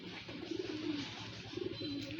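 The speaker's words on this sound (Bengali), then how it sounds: "এই যে কবুতরটা দেখেন এটা হচ্ছে আমাদের নর কবুতরটা" Soft, low coos from a male pigeon repeat in two rolling bursts, nearby but quiet, with no talking.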